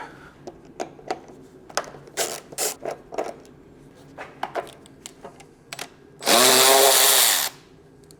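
A ratchet tool on a BMW E39 M5 interior cover gives a string of sharp, irregular clicks and short bursts. A loud, sustained whirring burst near the end drowns them out for about a second.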